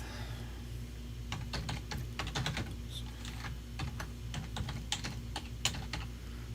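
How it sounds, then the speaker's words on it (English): Fingers type on a computer keyboard while entering registration details, a close run of quick key clicks in short uneven bursts over a low steady hum, no speech. "So we'll type in our information, Joe Smith."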